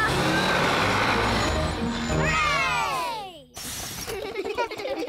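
A cartoon school bus engine drones loudly and steadily as it climbs a steep mountain road, then a descending whistling slide and a sudden cut, followed by rumbling and voices in the background.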